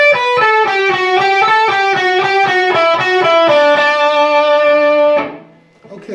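Distorted electric guitar plays a hard-rock lick, a run of rhythmic picked notes with string bends that climb and hold, ending on a sustained bent note that cuts off near the end.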